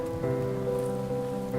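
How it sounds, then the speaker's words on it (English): Heavy rain pours from dark storm clouds amid wild wind, a steady, dense patter mixed with sustained tonal background music. "the wind blew wildly and rain burst from darkened clouds"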